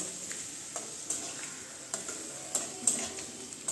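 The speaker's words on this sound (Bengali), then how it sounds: "চিকেনটা দিয়ে ভালো করে আমি মিশিয়ে নিচ্ছি।" Chicken being stirred into a sizzling yogurt masala for Bengali doi chicken, with a steady frying hiss and soft irregular scrapes of the spoon against the pan, close and moderately quiet, no talking.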